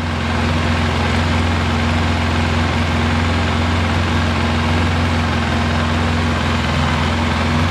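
A Polaris Sportsman 700 ATV engine idles quietly after a head gasket replacement, a steady, even low drone running alone and unchanged throughout.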